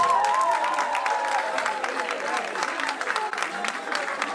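Sustained audience applause at a French-language talk, a dense steady patter of many hands clapping throughout, moderately loud and continuous with a faint tonal hum underneath.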